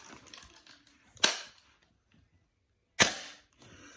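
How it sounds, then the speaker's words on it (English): Two sharp mechanical clacks, spaced nearly two seconds apart, come from an Edgi airsoft gun with a 303mm 6.01 bridged barrel being dry fired, loud and close with faint handling noise around them. "I am dry firing"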